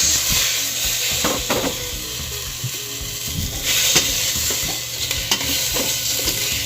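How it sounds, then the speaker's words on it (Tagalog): Tomatoes and other ingredients sauté in a pan with a steady loud sizzle and repeated spatula scrapes and clinks throughout, close up and without talk. "ginigisa ko pa lang yung sangkap"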